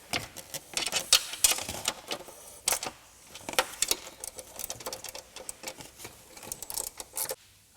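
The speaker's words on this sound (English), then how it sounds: "we can use a 13mm ratchet spanner just to ease this trim back and nip these horizontal bolts up into the sill" A 13mm ratchet spanner clicks in quick, uneven runs while tightening horizontal bolts into the sill when fitting a side step to a Land Rover Discovery 3 or 4, close up with no talking.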